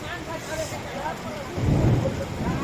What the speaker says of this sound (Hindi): यहाँ पर बर्फबारी का और बारिश का नज़ारा आप देख सकते हैं